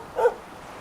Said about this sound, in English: Oh, look at the dog!